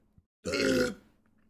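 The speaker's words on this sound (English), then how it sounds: "I had a big burp stuck in my throat right there" A single loud, close burp lasting about half a second, forced up after being stuck in the throat, standing alone with no talk over it.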